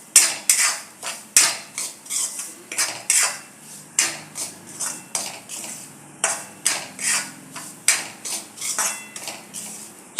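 Dry semolina being roasted in a pan over a low flame for ghee shira, with a spoon scraping and clinking against the metal in a steady, repeated rhythm of close, sharp strokes, heard alone.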